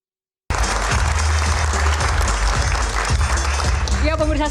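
Studio audience applauding at an Indonesian election Q&A talk show, loud sustained clapping from a crowd right after a moment of silence.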